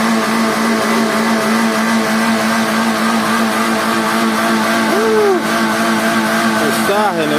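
A car engine drones and revs steadily on a muddy, rain-soaked village road while the vehicle, fitted with tire chains, is being hauled out, with people talking and calling out over the continuous loud motor.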